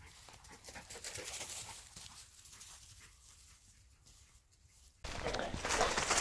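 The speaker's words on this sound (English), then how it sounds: "Got my trusty dog Scout" A dog walks through woods while out shed hunting for antlers, panting and sniffing close by with soft rustling footsteps, before a louder, brighter burst of rustling noise takes over near the end.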